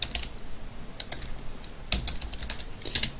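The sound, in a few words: typing on a laptop keyboard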